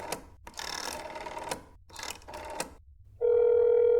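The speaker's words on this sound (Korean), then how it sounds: "전화를 해보자고" A telephone in a video game rings in several bursts separated by short silences, then gives way to a steady, loud dial tone at the end.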